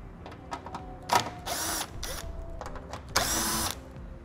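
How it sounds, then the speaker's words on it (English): A power tool whirs in short bursts while removing screws that attach a car's rear fascia to the trunk pan during a trailer hitch installation, with clicks and brief mechanical pauses between runs. "Now we'll remove the two screws that attach our fascia to our trunk pan"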